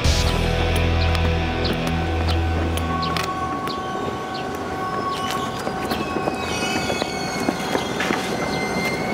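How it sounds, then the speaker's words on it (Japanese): Express train at a station platform, heavy low rumble of the train passing close by at first, fading into rattling wheels, squeals and clatter with a tonal station chime or announcement tone layered over it; no speech. "2番線の電車は川西湖行き急行電車です。"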